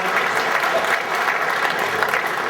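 A hall of fame induction audience for billiards claps steadily, with many hands blending into a continuous, moderately loud wash of applause and no voices on top.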